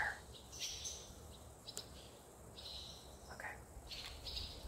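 Several birds call outdoors in short chirps and tweets scattered through the stretch, moderately near over steady background noise, with a brief spoken word.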